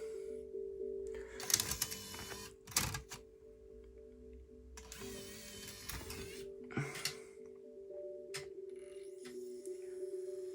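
A second-hand, previously faulty Nintendo Wii disc drive spins up and reads a disc, giving a steady mechanical hum with a few sharp clicks and whirring bursts from the drive, close and fairly quiet, with no talking.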